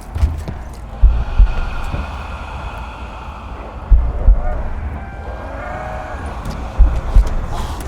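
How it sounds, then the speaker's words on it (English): Heartbeats thud in slow paired pulses, three times, over a cold, misty, low rumbling and growling ambience on the Voyage of Despair game map. "you can hear the Kraken growling, you can hear heartbeats"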